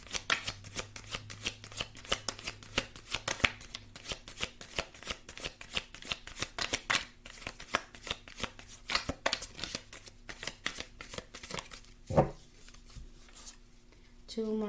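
Tarot cards shuffled by hand in a steady run of quick papery riffles and slaps, close and fairly loud, with a brief louder snap near the end; a voice talks faintly underneath.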